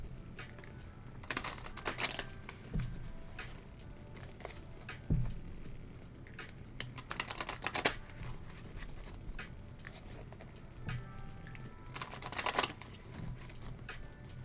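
Oracle cards are shuffled by hand in a quiet room, giving soft repeated riffling bursts and light card slaps at irregular intervals, with no talking.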